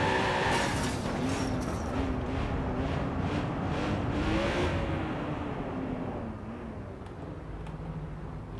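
In the video game Watch Dogs 2, a car revs and drives off with a steady, rising engine drone that gradually eases and fades toward the end.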